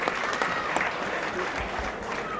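Hull FC rugby league supporters applaud at a match against Warrington, a steady wash of clapping from a large stadium crowd heard at a distance for the whole stretch, with no talk over it.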